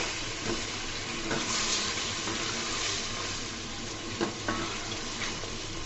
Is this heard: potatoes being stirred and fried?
yes